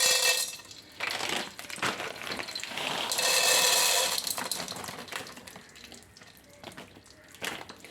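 Roasted gram sizzles in hot ghee in a pan, a close, hissing crackle that swells and fades in bursts with faint clinks, and no talking.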